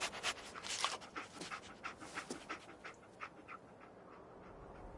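The dog Dogmeat panting in Fallout 4, a quick series of soft, breathy huffs in a steady rhythm that is close and quiet and fades toward the end, with no voices.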